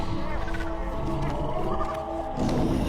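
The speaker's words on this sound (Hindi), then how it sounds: "शेर की दहाड़ अलग सुनाई दे रही है" A lion roars in a spooky cartoon forest: a loud, sustained, rumbling roar with tonal layers that runs for a few seconds, then swells into a rougher growl at the end.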